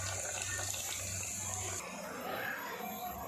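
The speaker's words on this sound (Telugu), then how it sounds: "కూరగాయ ముక్కలు ఉడుకుతున్నప్పుడు దీంట్లో చింతపండు రసం వేసుకోవాలి" Tamarind juice pours into chopped vegetables cooking on a stove for sambar, a steady close liquid splash and gush that cuts off partway, followed by quieter simmering background.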